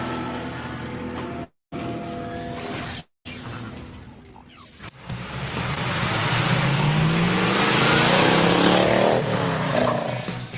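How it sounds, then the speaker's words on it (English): A 1971 Dodge Challenger muscle car engine roars, building into a loud, sustained rev with a broad rushing exhaust note that swells and holds after a short stretch of other sound. "You are looking at a true muscle car."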